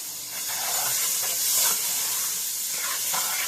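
Onion and garlic cooking in a dark gumbo roux with sausage, giving a steady close sizzle and hiss that swells slightly midway and runs on without any talk.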